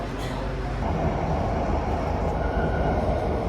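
A Ho Chi Minh City metro train rumbling steadily with a low, continuous roar and a faint high whine, heard from inside or very near the carriage.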